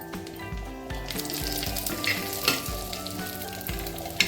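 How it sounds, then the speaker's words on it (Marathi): Coconut, ginger, garlic, bay leaf and cloves roasting in a pan over a medium-high flame for mutton rassa, with steady close sizzling and frying and repeated low knocks of a spoon stirring through the mixture. "आता यामध्येच आपण खोबरं, आले लसूण, तमालपत्र, लवंगा हे सगळंच आपण ॲड करणार आहे आणि हे पण छान गुलाबीसर आपण भाजून घेणार आहे"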